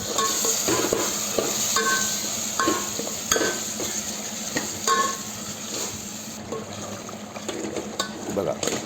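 Mutton masala gravy sizzling in a pot with water added, stirred with a metal spoon that clinks and scrapes against the sides in irregular strokes, the bubbling fry steady and close.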